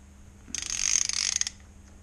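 A ratchet clicks rapidly and evenly for about a second while tightening parts on a dirt bike fork, close and fairly quiet with no talk.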